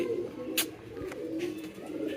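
A black King pigeon gives a low, close coo, a soft throaty murmur with a couple of brief sharper bird sounds over quiet background.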